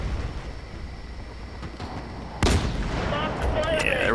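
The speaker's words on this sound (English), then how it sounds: "I believe it takes me quite a few shots to get sighted in." Sniper rifle fire in the video game Battlefield: a sharp, loud shot cracks midway, followed by a lingering rumbling echo over a low background hum.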